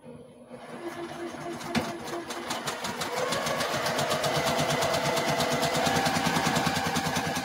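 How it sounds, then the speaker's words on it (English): A sewing machine stitches quilt pieces together, starting up and settling into a fast, steady, continuous whir that holds close and moderately loud throughout. "Now I'm going to head over and sew. Sew these together."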